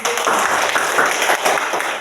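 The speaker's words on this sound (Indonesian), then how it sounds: "tepuk tangan untuk Elis" A brief burst of clapping from students in a classroom, a dense patter of hands lasting about two seconds, fairly close and even in loudness.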